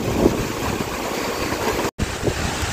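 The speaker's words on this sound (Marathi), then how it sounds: "इकडे पण एक छोटासा धबधबा असतो।" A small waterfall in the Konkan region gives a steady broadband rush of flowing water, loud and close, broken by one very short gap.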